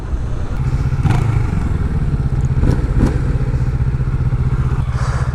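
A 2015 Yamaha FZ-07 motorcycle engine roars loud and steady at close range, with a few clattering thumps as it accelerates hard.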